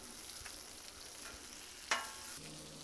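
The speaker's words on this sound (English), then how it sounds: "Let's get this bacon, see how it's looking. Still got some ways to go. We'll go ahead and let this cook a little more." Bacon frying on an outdoor Blackstone griddle, a constant close sizzle with one brief sharp clink of a utensil partway through, no talking.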